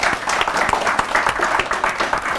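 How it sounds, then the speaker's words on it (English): Steady applause from a crowd, dense clapping that holds evenly for a couple of seconds without pause. "So, huge round of applause for Munjia."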